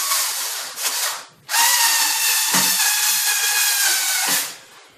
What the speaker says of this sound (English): Drill these holes first and put a wall plug in